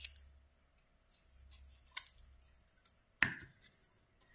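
Close scissors cut small strips of paper for an Easter paper craft, a string of light snips with a louder sharp snap near the end over a faint low hum.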